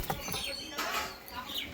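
A white male pigeon flaps its wings in a short fluttering burst close by, with faint bird sounds around it.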